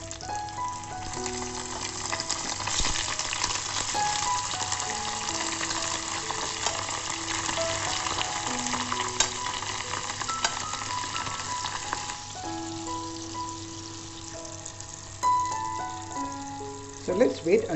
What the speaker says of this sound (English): The next step is to take the sausage and we begin frying it.